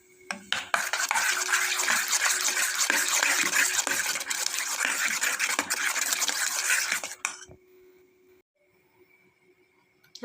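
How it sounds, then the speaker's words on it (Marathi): Green pea dhokla batter is stirred briskly in a bowl, a continuous wet scraping and swishing for about seven seconds that stops abruptly, leaving near silence. "छान हलवूया आता."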